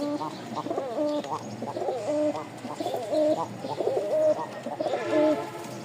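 Pigeons of the Topkoleti breed, including biscuit-coloured birds, coo in rhythmic, repeated phrases close by. The cooing comes from several birds and goes on steadily without any talk.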